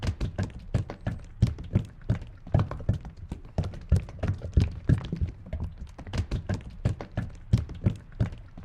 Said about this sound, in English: That is some noisy oil right there.